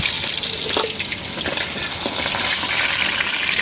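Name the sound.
pangas fish frying in a pan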